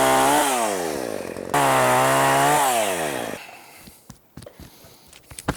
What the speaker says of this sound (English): Not a fan of the chainsaw.